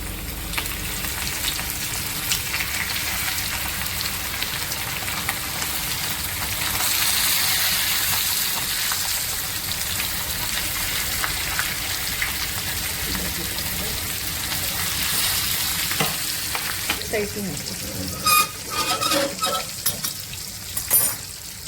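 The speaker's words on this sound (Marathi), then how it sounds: "आता मी हे तेल गरम करत ठेवलंय आणि त्यामध्ये मी हे एक एक करून सोडते आहे." Bagada fish frying in hot oil, a continuous loud sizzle and crackle throughout, with bursts of sharper spitting as pieces are added one at a time.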